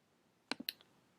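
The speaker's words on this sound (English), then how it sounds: "I'm just kind of clicking around to see if I can change images." A computer mouse clicks three or four times in a quick, close cluster, crisp and isolated against near silence.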